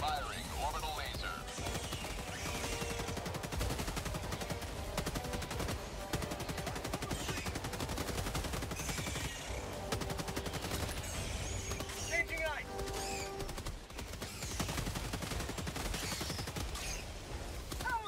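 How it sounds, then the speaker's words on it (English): Gunfire and an orbital laser strike in the video game Helldivers 2: a continuous dense barrage of rapid shots and crackling blasts that stays loud and steady throughout, with voices talking over it. "Firing orbital laser."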